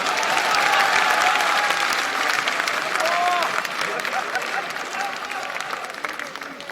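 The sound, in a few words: audience clapping at political rally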